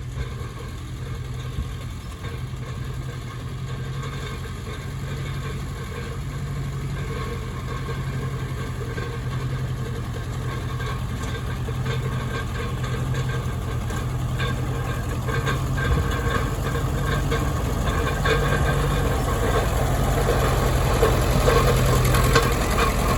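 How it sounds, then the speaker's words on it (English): A Ferguson TEA20 tractor engine runs steadily while rolling a rough, hoof-marked field, a low continuous drone with a slight knock that holds even and fairly loud throughout, with no talk. "There's old tractors bobbing around through the hoof marks."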